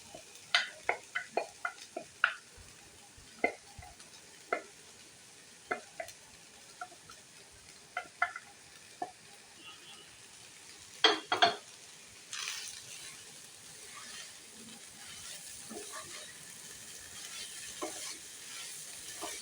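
Cooked rice tossed into a pan with white oil for fried rice, a spatula tapping and scraping in a quick irregular rhythm over a soft sizzle that grows steadier toward the end, close and fairly quiet.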